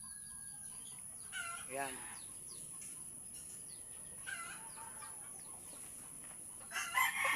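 A backyard rooster, once a broodcock, crows while hens of mixed breeds cluck nearby. The calls rise in short bursts over steady farmyard background noise, and a voice briefly speaks.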